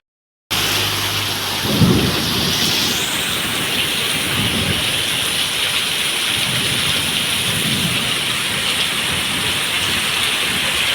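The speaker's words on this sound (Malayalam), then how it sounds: "ഭയങ്കര മഴ, ഭയങ്കര എന്താ പറയുക, ശക്തിയായിട്ടുള്ള മഴയേനു" Heavy rain pours steadily and loudly, with a deep roll of thunder rumbling early on and softer rumbles following.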